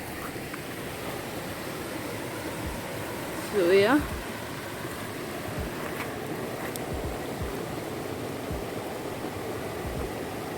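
A hidden river in Jamaica rushes steadily in the background, a constant broadband wash. A voice speaks briefly over it, and a short tonal squeak rises midway.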